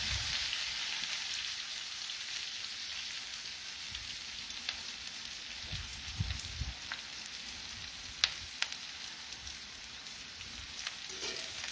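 Chopped onion sautéing in a hot pan while cooking kurdai bhaji, giving a steady, even sizzle and crackle that runs throughout with no voices.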